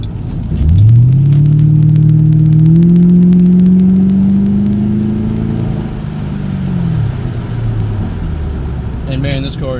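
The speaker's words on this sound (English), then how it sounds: "we'll be able to hear some of those glorious exhaust notes" A 2007 Ford Mustang GT accelerating hard from inside the car, its V8 exhaust rising steadily in pitch through the gear for several seconds, then easing off into a lower rumble, loud and close.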